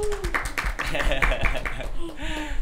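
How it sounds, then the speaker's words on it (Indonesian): A talk-show studio audience claps to welcome a guest. Brisk, uneven clapping runs under a speaking voice and light laughter, fairly close and moderately loud for the few seconds it lasts. "Tepuk tangan dulu dong."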